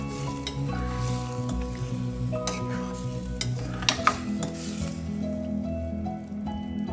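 Shrimp fry in masala in a pan with a steady close sizzle, spoon stirs and scrapes clicking against the metal, while a low tonal background hum plays throughout.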